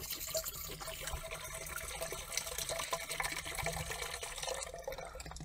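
Liquid pours into a garden sprayer, a fairly quiet continuous splashing and gurgling stream with small drips and fluctuations, fading slightly toward the end.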